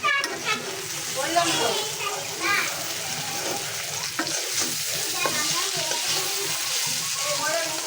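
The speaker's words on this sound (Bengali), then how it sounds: "কাঁকরোল ভাজি চলতে আছে ভাজি করতে আছে" Sliced teasel gourd (kakrol) fries in a pan with a dense, steady sizzle and repeated stirring scrapes, while faint voices and children carry on in the background.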